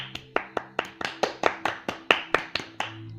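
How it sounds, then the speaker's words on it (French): Close, crisp hand claps repeat in a steady, slightly uneven rhythm of about three per second, each ringing briefly, over a soft sustained tonal hum. "Je veux des applaudissements."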